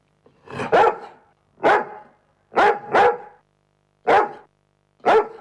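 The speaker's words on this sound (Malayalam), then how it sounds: "ഈ പട്ടി ഒരു സൗകര്യവും തരത്തില്ലല്ലോ" A dog barks loudly nearby in a series of single and double barks, spaced irregularly, with silence between them.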